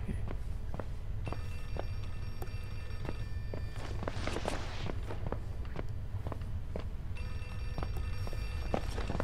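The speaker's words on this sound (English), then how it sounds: "Is that a phone?" An old telephone rings in two bursts of bright, rattling bell tones in the video game Outlast 2, set against a steady run of footsteps and ambient noise.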